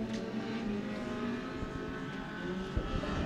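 Race cars circle Penn Can Speedway in a sustained, loud engine roar with a steady low drone, the pack's mixed engine notes blending continuously throughout, with no voices.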